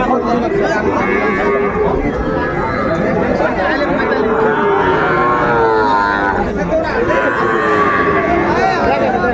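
Cattle, young bulls and heifer calves, moo and low repeatedly at a busy cattle market in Dinajpur, with people chattering and talking throughout in a crowded open setting.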